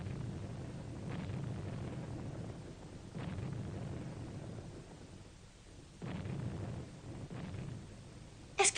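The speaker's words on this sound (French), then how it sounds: "Est-ce que tu entends aussi les canons?" Distant cannon fire booms out in a series of low, muffled thuds several seconds apart, rolling under a steady hiss of background noise.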